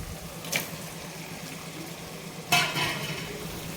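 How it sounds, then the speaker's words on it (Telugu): Prawn curry is stirred in a pot, with two distinct scraping clanks of a spoon against the metal, separated by quiet stretches of faint background hum. "ఆల్రెడీ ఉడకపెట్టుకున్న రొయ్యలను అయితే దీంట్లో వేసి బాగా కలుపుకోవాలి"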